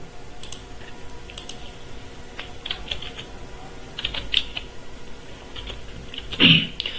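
Fingers tap out a captcha code on a computer keyboard, a run of light, close key clicks with a few louder strokes and short pauses, heard alone without speech.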